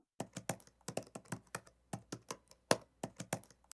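Keystrokes on a computer keyboard as a question is typed into a Google Form, a steady run of crisp clicks in uneven bursts, close and clear with no talking.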